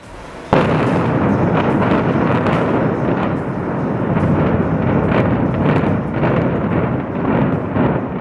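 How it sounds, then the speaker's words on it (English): Explosive implosion demolition of a building, the charge-laden structural elements wrapped in geotextiles and wire mesh: a sudden loud blast leads into a long, dense rumbling roar of collapse that lasts several seconds without speech. "This spectacular demolition was a real success."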